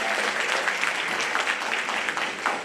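Audience applauds after a Bengali poem recitation at a Hridoybeena 2024 stage event, a steady dense clatter of many hands clapping throughout, fairly close and even in loudness, with no voices on top.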